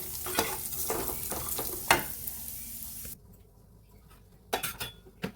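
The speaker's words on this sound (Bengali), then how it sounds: "এখানে কাজু বাদাম ভাজ একটু লাল করেই ভেজে নেবো" Cashew nuts fry in a pan, turned until reddish, with a close, steady sizzle and repeated scraping and clinking of a stirring spoon that pauses briefly before sharper stirring knocks return.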